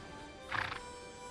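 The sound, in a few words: Camargue horse neighing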